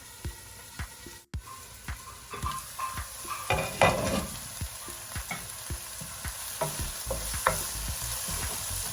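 Lasagna ingredients fry in a pan with a steady, close sizzle and repeated stirring scrapes and taps of a utensil, a sharp knock near the start, and no talking.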